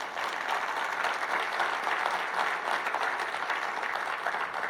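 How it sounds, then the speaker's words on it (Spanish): A church congregation applauds, a dense, even clapping from many hands that holds steady and fills the whole stretch. "De un aplauso al Señor"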